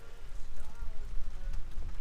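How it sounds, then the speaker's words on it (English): Rain beginning to fall on a boat as Hurricane Michael approaches, a steady pattering hiss with gusty low rumble, heard while a person talks. "The rain just showed up. The wind's picking up."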